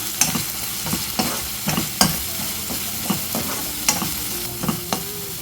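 A ground paste of onion, coconut, ginger and garlic fries in oil for a paneer curry, giving a continuous sizzle broken by regular spatula scrapes and knocks against the pan, heard close up with no talking.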